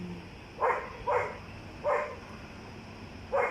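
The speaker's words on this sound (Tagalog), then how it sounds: "May aso sa baba." A dog barks from below a hillside church area in Baguio, four separate barks spaced unevenly over a few seconds, moderately distant over a quiet background.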